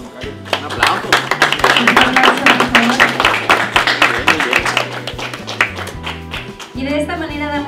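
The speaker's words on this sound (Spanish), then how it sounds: "Un aplauso." An audience claps at a university agreement-signing ceremony between Universidad Xochicalco Campus Ensenada and Código, a brisk patter of hands running throughout, mixed with a voice and tonal background sound, fading near the end.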